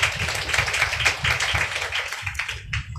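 A church congregation at a Sunday worship service claps together in a quick, steady rhythm, loud and close, with a few voices faintly audible underneath.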